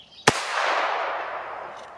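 Retro toy cork gun firing a cork: a single sharp, loud crack at close range, followed by a long, hissy decaying wash of noise that fades slowly, with a faint brief sound near the end and no talking.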